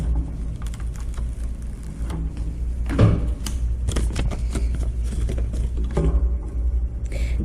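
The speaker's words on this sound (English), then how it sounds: "roll our paper backing off." Paper backing is peeled and rolled off adhesive vinyl for a plastic backpack, giving a close, steady crackling and rustling with a few sharper crinkles, no talking.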